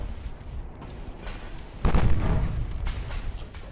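Secondary guns of a battleship fire in the naval strategy game Ultimate Admiral Dreadnoughts: a sudden loud boom lands partway through, followed by a heavy rolling rumble over steady background battle noise.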